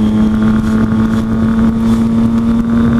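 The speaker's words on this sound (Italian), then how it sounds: "Si sente l'asfalto bagnato ora" Motorcycle engine droning steadily with a strong constant hum while riding on wet asphalt in the rain, with continuous wind and water hiss loud around it throughout.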